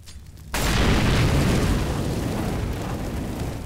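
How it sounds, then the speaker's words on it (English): A Molotov bursting into flames in Counter-Strike on the Inferno map, a sudden loud whoosh that settles into a sustained roaring crackle of fire. "To clear out bedroom, you can use this Molotov."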